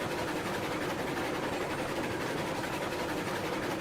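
A steam locomotive pulling a string of cars in the Railroads Online train game, a steady dense rolling rumble with wheel clatter, continuous and fairly loud throughout with no voices.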